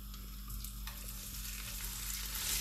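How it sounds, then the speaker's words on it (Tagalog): Boiled carrots sautéed in a pan give a close, steady frying sizzle with stirring scrapes, a low hum underneath and no talking. "Mabilis lang siyang gisahin kasi nalaga na nga siya"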